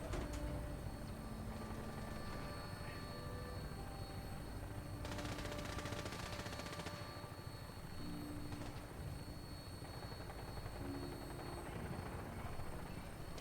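Rapid bursts of gunfire rattle over the steady drone of a helicopter in the Fallout 4 video game, the firing coming in short rattling volleys while the rotor hum runs underneath throughout.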